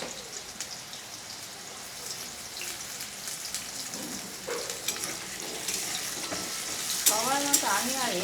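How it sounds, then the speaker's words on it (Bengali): Potato pieces fry in hot oil, giving a steady, crackling sizzle broken by scraping stirs of a spoon in the pan. Close and fairly quiet. "তেলটা গরম হয়ে গেছে, আমি এতে এবার আলুগুলো দিয়ে দিলাম। আলুগুলো একটু হালকা করে ভেজে নেব।"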